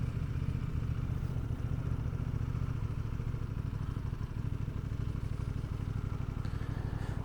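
A 2026 Aprilia Tuono 660 Factory motorcycle engine runs steadily in dynamic mode, producing a close, continuous low rumble with a fast, even pulse throughout and no voices.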